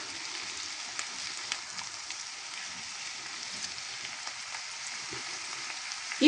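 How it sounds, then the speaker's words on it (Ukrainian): Steady, quiet sizzling of eggplant, tomatoes and peppers frying in a pan over low heat, a continuous crackle with faint pops and a brief clatter right at the end. "на маленькому вогні хай воно смажиться"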